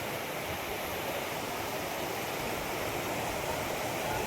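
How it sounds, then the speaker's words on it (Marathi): A stream flows beside rice fields near a small village in Poladpur, Raigad, in the Konkan region, giving a steady, even rushing of water with no voices. "बघा हा ओढा असा ओढा आहे पूर्ण"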